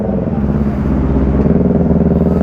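A Kawasaki Z1000R motorcycle with a side-mount exhaust idles close by, a loud, deep, throbbing engine rumble that holds steady throughout.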